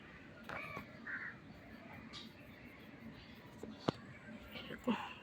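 Crows caw outdoors under a clear sky as birds fly back and forth, their calls faint and scattered against low background noise, with a person talking nearby.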